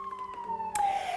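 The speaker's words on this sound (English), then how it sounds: "sorry for the siren." An emergency-vehicle siren wails outside during a yoga class, a steady tone sliding slightly lower over a little more than a second, moderately loud with a brief burst of broadband noise partway through.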